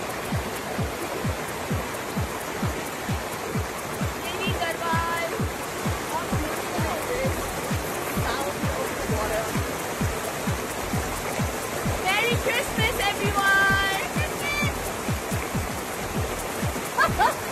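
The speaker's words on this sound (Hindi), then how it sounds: "शिल्पा शेट्टी झरने के पास बैठकर पानी से खेलते हुए नजर आ रही है।" A waterfall and flowing stream at a picnic spot in Mussoorie, a constant loud rushing wash of water throughout with a regular rhythmic beat running underneath.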